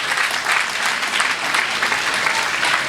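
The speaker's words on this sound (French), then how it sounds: "que je demande d'applaudir très fort" Audience at a Catholic school teachers' retirement celebration applauds loudly and steadily, a dense, sustained wash of clapping from many hands throughout, with no talking over it.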